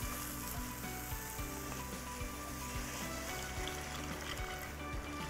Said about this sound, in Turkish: Şimdi ısıttığım sütümü yavaş yavaş içine ilave edeceğim